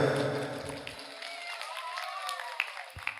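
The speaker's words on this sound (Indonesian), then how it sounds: "tepuk tangan untuk beliau" Audience applause in a crowd at the inauguration of Masjid Al-Ikhlas at a gold-mining site, a burst of clapping at the start that fades into scattered claps, with a voice briefly audible.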